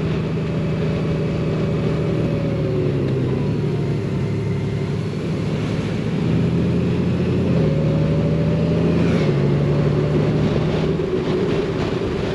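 Honda Goldwing motorcycles riding through curves at a Goldwing rally in Luxembourg, a continuous loud engine drone with shifting pitch as the bikes accelerate and pass, no talking.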